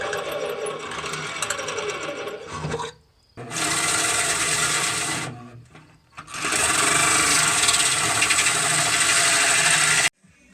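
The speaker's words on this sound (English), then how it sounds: "kind of just drilling the hole right in there" Power drill boring a hole through the body of a drift Toyota Supra for a side exit exhaust, three loud sustained whirring runs separated by brief pauses.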